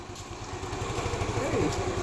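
A motorbike engine rumbles close by with a steady low throb, outdoors, rising slightly as it passes.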